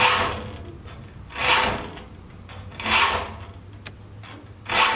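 A joiner files the teeth of a handsaw to sharpen it, giving close, rhythmic rasping strokes that swell and fade at roughly even intervals.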